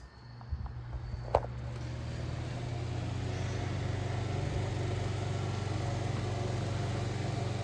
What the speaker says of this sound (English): we're going to go ahead and fire the fan up